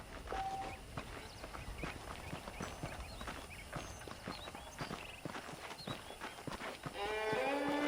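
Horse hooves clip-clop steadily on a hard surface amid ambient sounds in Red Dead Redemption, with a brief musical tone and chime rising near the end.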